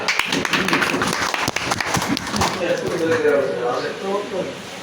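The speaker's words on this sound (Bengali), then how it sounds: "মোবাইলের যে অত্যাধুনিক ব্যবস্থার জন্য সমন্বয়কে আবার হাততালি।" A gathering's burst of hand clapping sounds near and uneven for a couple of seconds, then gives way to people talking.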